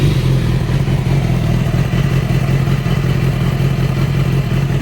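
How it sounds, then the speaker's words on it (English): A motorcycle engine sits at a rough, uneven idle, a loud and close continuous low rumble that throbs steadily with no voices over it. "the idle is super rough here"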